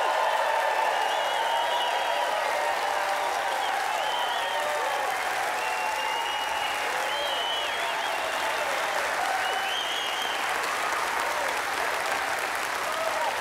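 A large live audience in a Branson, Missouri theater cheers and applauds, sustained loud clapping with scattered whoops for the whole stretch, close and full.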